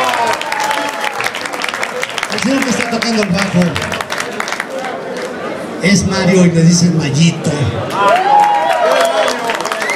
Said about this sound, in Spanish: Un aplauso para el tractor.